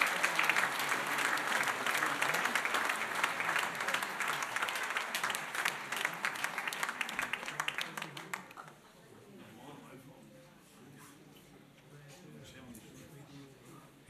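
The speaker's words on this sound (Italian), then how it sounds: "facciamo l'applauso anche agli ultimi due ritardatari" A large congregation at an international Mass in Lourdes applauds two latecomers, loud sustained clapping for about eight seconds that then drops away to quiet room sound.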